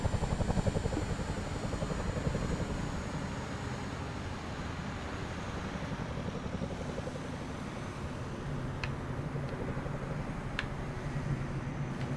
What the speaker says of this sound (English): Because I'm seeing a Chinook